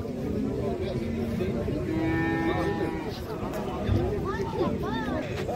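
Cattle low repeatedly at a livestock sale where pregnant cows and calves are offered, several moos rising and falling over a steady crowd hubbub with people talking nearby.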